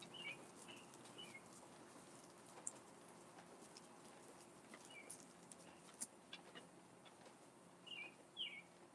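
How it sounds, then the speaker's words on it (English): Faint, distant birds chirp and call in scattered short bursts over a quiet outdoor background hum, some brief flutters and tweets standing out toward the end. "listen to the birds singing"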